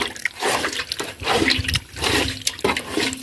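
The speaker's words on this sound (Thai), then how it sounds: "ล้างเมือกมันออกก่อน" Running water splashing over a large fish as slime is washed off it, a loud close rush with uneven surges and spatters, no talk.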